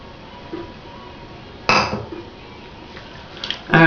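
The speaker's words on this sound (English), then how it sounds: "if you come to the end of the bowl and there's a little bit of honey left, just scrape that out" A spoon scrapes leftover honey from the bottom of a bowl: one sharp scraping clink, then a few fainter taps and a final scrape, close up in a quiet kitchen.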